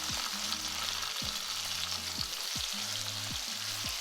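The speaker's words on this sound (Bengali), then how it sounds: "আমলকিগুলো দিয়ে ভালো করে একটু ফ্রাই করে নেবো" Amla frying in oil with garlic, dried chili and asafoetida, giving a soft steady sizzle. Faint scraping stir strokes come every second or so, close and quiet, with no talk.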